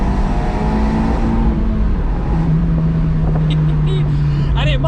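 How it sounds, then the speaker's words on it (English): An Abarth 124 Spider driving with the roof down in freezing weather gives a steady engine drone with wind noise and a rising tone, while someone talks over it. "with the roof down, it does sound a lot better in this car."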